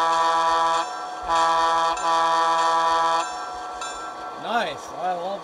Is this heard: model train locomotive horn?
yes